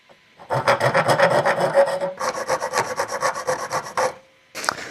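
Small teeth are filed off a metal part before tapping, heard up close as a dense run of rapid rhythmic rasping strokes for about four seconds, then a brief pause and one last short scrape.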